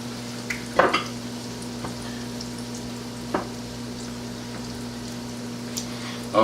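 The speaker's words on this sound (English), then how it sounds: "we're going to fry that right in there" Chicken breast coated in waffle batter frying in hot oil, a steady soft sizzle with faint crackles and a few brief clinks, under a constant low electrical hum.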